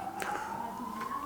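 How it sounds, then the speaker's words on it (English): A faint siren wails outside, a single tone slowly rising in pitch, heard distantly and steady throughout. "There's a siren going on outside, you probably can hear."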